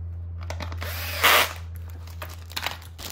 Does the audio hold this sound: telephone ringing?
no